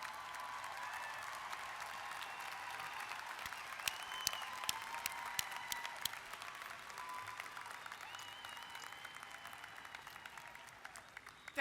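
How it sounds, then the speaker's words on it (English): Commencement ceremony crowd standing and applauding their supporters, a faint, distant, sustained patter of many hands with occasional louder individual claps and a few whoops, continuing throughout the stretch. "Please stand and applaud all of those who have supported you"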